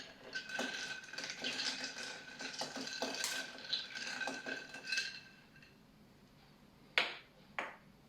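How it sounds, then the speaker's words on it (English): A mezcal Negroni is stirred in a glass, a bar spoon clinking and tinkling steadily against ice and glass for several seconds before slowing into two sharp final clinks. "And we're gonna give it a stir."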